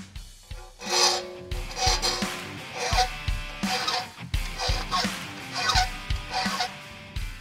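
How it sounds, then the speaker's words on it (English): A flat file being pushed across a metal edge to clear off slag, giving a repeated rasping scrape in steady back-and-forth strokes, close and clear. "The next is a set of flat files."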